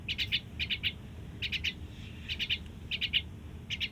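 Pet myna birds give sharp, bright chirps in short clustered bursts of three or four, repeating every second or so over a quiet low background rumble.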